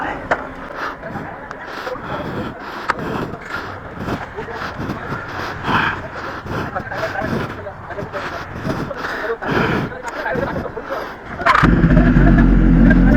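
A modified BMW S1000RR motorcycle fitted with an Austin Racing exhaust revs in repeated loud throttle bursts with popping on the overrun, close by, before a sustained heavy drone at the end.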